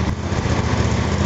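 A small lawn mower engine runs steadily nearby, with a buzzing, even drone and no pauses and no voices.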